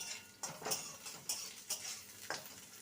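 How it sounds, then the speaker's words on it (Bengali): Onions and chopped green chillies fry in a pan, giving a faint, soft sizzle punctuated by five or six short bursts of spatula scraping and clinking against the pan as they are stirred. "পেঁয়াজটাকে হালকা ভেজে নিয়েছি এবারে যে কাঁচা লঙ্কা কুচিয়ে রেখেছিলাম সেটা দিয়ে দিলাম"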